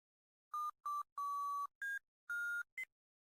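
A series of six electronic beeps from the video game Petscop as a door opens on its own, at slightly varying pitches and lengths, some short and some held, in an irregular pattern against silence.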